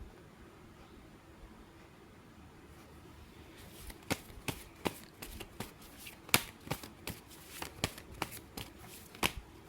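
Tarot cards being shuffled during a private reading, a run of crisp riffling snaps and flicks starting after a few seconds of quiet room hiss, close and moderately loud.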